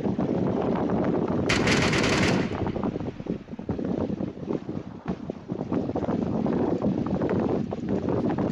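Gunfire in the battle royale game PUBG: dense, loud bursts of rapid shots that sound like automatic weapon fire, mixed with rushing wind and a steady engine-like rumble throughout.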